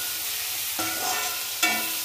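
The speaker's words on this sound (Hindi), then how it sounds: "प्याज को भी हमने बारीक बारीक काट के डाल रहे हैं, और अब इनको हम अच्छे से भून लेंगे" Finely chopped onion and garlic frying in a pan, a steady close sizzle with two brief stirring scrapes, no voices.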